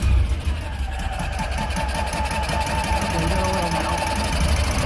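A small engine runs with gas, giving a steady, rapid knocking chug close by. Someone briefly speaks over it.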